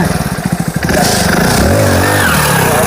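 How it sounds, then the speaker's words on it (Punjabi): A motorcycle engine putters with rapid pulses during stunts, then revs up into a loud, sustained roar that rises and falls in pitch. "ਹੁਣ ਆਪਾਂ ਤੁਹਾਨੂੰ ਦਿਖਾਣੇ ਮੋਟਰਸਾਈਕਲ ਦਾ ਸਟੰਟ"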